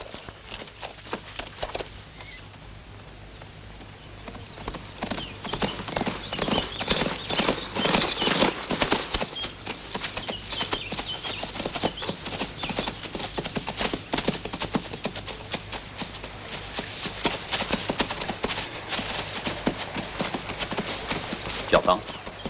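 Rapid hoofbeats patter continuously as horses with riders draw near, a dense galloping rhythm that grows louder and fills the scene.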